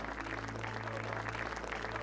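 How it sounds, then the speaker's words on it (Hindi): Party guests clap together in a dense, steady round of applause, heard in an audio drama scene. The clapping stays even and fairly soft for its whole short length, with no voices over it. "सभी मेहमान तालियों से युवराज का अभिवादन करते हैं।"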